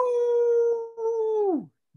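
A voice imitates a wolf howl: a long sustained tone, briefly broken, then sliding downward and fading out.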